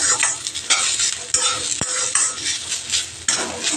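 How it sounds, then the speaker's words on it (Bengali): Onion and garlic dry-roast in a wok without oil, stirred with a metal utensil that scrapes and clinks rapidly against the pan over a light crackling sizzle, close and busy throughout. "শুকনো কড়াইতে নেড়ে নেব।"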